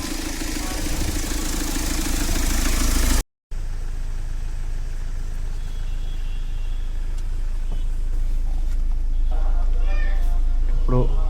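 A 2014 Mahindra XUV500 engine idles without revving, a low steady hum running throughout, while a cat meows several times near the end.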